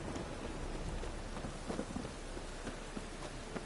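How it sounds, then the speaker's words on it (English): Heavy rain pours steadily during a thunderstorm in The Witcher 3, with soft thunder rumbles rolling underneath the constant hiss and no talking. "A storm, damn it."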